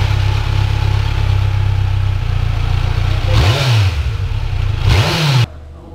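A Kawasaki Z900 motorcycle fitted with an Exan full-system exhaust idles loudly up close, then gets two sharp throttle blips that rise and fall before cutting back to idle.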